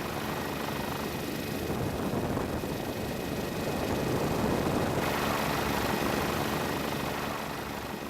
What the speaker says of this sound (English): The helicopter barely takes off, and all you can see from the air is ice.